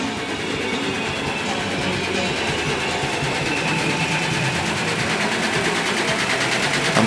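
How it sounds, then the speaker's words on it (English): An embroidery machine runs steadily in a clothing shop at Bangkok's Bobae Market, giving a continuous mechanical whirr with a fast rapid stitching pulse, constant and fairly loud against market background noise. "Another shop doing embroidering."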